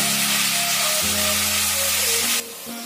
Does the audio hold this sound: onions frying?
yes